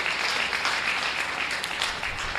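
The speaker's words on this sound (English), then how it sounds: "Let's give Will Staples a nice round of applause," Audience at a county fair lamb and sheep show applauding, a dense, steady wash of clapping from many hands, fairly distant and sustained throughout.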